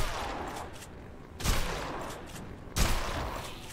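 Shotgun fire in the video game Dead Island, two loud separate blasts about a second apart against a quieter background.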